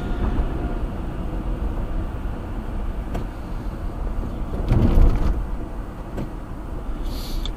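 A car drives toward downtown Salisbury, North Carolina, early in the morning: a steady rumble of road and engine noise with a brief louder swell partway through and no talk.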